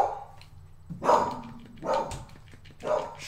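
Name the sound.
dog barking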